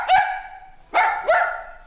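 An imported dog barks three times in about two seconds, one bark followed after a gap by two quick ones, loud and close, with nothing else heard.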